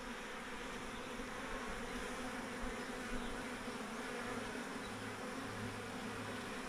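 Honeybee swarm buzzing at a steady, dense drone throughout, close and continuous with no pauses or voices.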